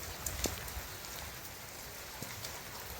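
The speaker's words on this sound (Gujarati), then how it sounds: "વરસાદ ચાલુ છે, ટમ ટમ ટમ ટમ ટમ ટમ" Light rain falls in a spell of rainy weather at the height of summer, a faint, steady patter with a couple of sharper drips landing nearby.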